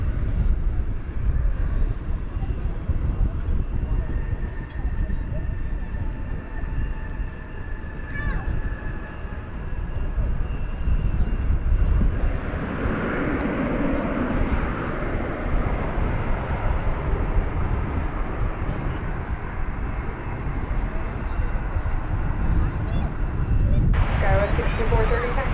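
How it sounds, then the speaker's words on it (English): A Boeing 787-9 Dreamliner jet at DFW Airport, bound for Paris, produces a broad roaring rumble that builds and swells at mid-distance. Talk and radio chatter run over the jet noise. "That's a 7879 Dreamliner headed back to Paris"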